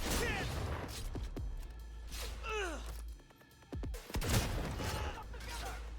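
Gunfire from the video game Cyberpunk 2077, rapid shots with sharp transients scattered across a few seconds, mixed with game sounds and voice-like grunts and sighs, fairly close and loud.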